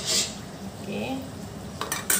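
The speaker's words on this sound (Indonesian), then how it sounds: "Sementara daging terus kita aduk guys." Meat stirred in a pot of nasi briyani with a metal utensil, giving a few scraping sounds and sharp clinks against the pot, the louder knocks coming toward the end.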